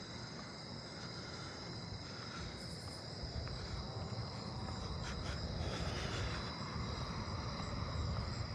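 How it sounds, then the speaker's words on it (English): A southeastern bush katydid calling in a nighttime neighbourhood, short buzzy bursts standing out above a continuous cricket and insect chorus, faint low rumble beneath, no voices. "I hear a southeastern bush katydid."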